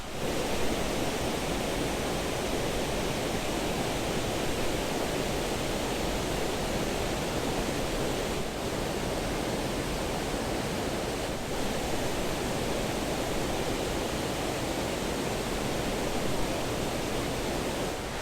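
Orienta Falls in the Apostle Islands area of Wisconsin pours steadily, a loud, unbroken roar of rushing water heard up close with no talk over it.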